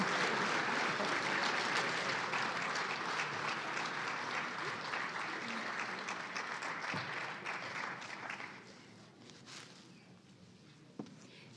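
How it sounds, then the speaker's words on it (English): An audience applauds speaker Dr. Younger at a Martin Luther King Jr. birthday celebration, sustained loud clapping from a large crowd that gradually thins and fades out near the end, leaving a few scattered claps. "Let's give her another round of applause, please."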